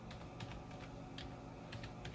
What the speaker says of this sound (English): And then you go ahead and you type in your website.